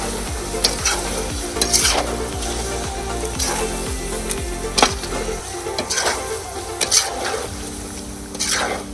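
Spiced Cornish hen and chickpeas being stirred in a sizzling pot, with steady frying sizzle under repeated scraping and clanking of a utensil against the pot, close and fairly loud.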